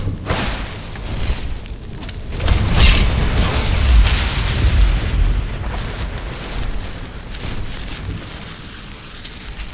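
Heavy cannon blasts in Skyrim roll out over a noisy battle din, one big swell of low rumbling thuds midway before fading back to a steady clamor.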